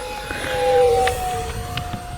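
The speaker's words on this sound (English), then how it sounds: "Increase the speed. Here we go, full throttle pass." An E-Flite Habu 50mm electric ducted-fan RC jet flies a full-throttle pass, its steady high whine swelling as it nears and then fading into the distance, with no talk over it.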